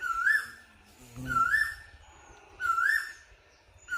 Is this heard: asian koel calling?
yes